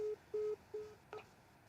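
A court telephone sounds a short run of electronic tones: three steady mid-pitched beeps, then a brief higher chirp. Quiet, with no talking.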